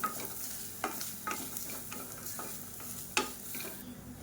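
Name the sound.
grated coconut being dry-roasted in a pan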